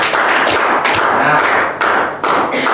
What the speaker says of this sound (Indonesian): tepuk tangan untuk Pak Agus ya